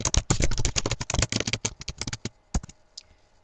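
Rapid keystrokes on a computer keyboard enter a report name, a dense burst of crisp clicks that thins into a few scattered taps and then stops.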